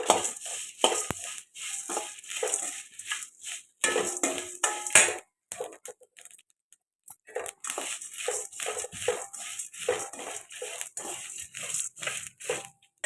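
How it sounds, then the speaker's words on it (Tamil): Grated coconut and spices are dry-roasted in a pan for fish curry, heard as close, irregular scraping and metallic stirring clinks with short pauses and a quiet stretch in the middle. "இது கூட தேங்காய் போட்டு வறுத்துக்கிறேங்க."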